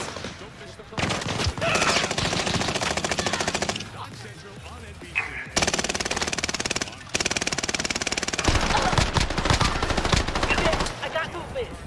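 Heavy automatic gunfire in a multiplayer shooter game, long rattling bursts of rapid shots separated by short gaps, loud and close, with voices talking in between.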